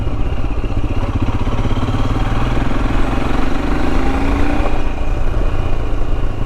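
A Royal Enfield Himalayan motorcycle engine runs loud and close, a steady throbbing single-cylinder chug with rattly mechanical clatter and a faint pitch rise near the end.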